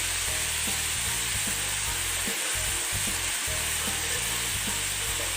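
Dill leaves tossed into a hot pan for a traditional dill leaf curry, sizzling in a steady, close hiss of frying with faint stirring scrapes underneath and no talking.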